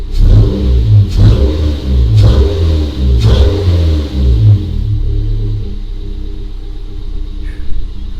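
A Mazda2 engine revs hard in several rising bursts, close and loud, then settles into a steadier lower rumble toward the end.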